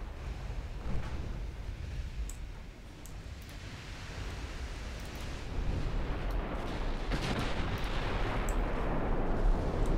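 Naval gunfire from dreadnought battleships in a French campaign of a warship video game: a steady, rumbling roar of distant artillery with occasional heavier booms swelling louder toward the end.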